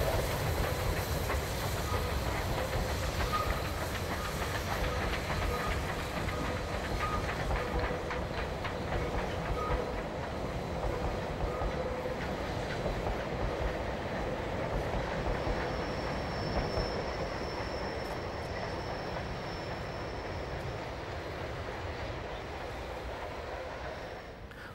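A locomotive-hauled passenger train works up and drifts down Westmere Bank near Whanganui, a continuous heavy rumble with rhythmic wheel clatter and a thin squeal, steady and fairly close, slowly fading at the end.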